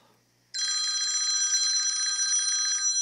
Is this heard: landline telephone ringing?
yes